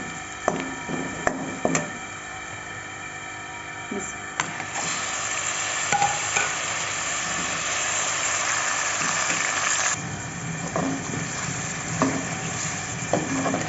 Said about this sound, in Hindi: तो चिकन का कलर चेंज होने तक मैं फ्राई करूँगी